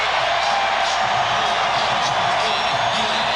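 Dense arena crowd noise at a 1995 NBA playoff basketball game, a continuous loud roar of jeering and shouting aimed at a player, with no breaks.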